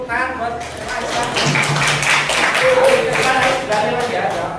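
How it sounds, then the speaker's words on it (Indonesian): A classroom of students claps for a classmate, a dense burst of applause lasting several seconds with voices mixed in. "Beri tepuk tangan buat Aisyah."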